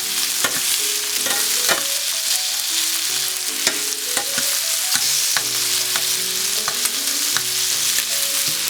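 Chicken breasts cooking in a skillet, a steady close sizzle with intermittent pops and crackles, plus a few faint clinks, no talking.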